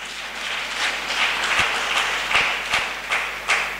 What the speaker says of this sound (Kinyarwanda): Nanone reka tumukomere amashyi.